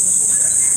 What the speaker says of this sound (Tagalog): At yung huni ng ibon at kuliglig yung maririnig mo lang dito.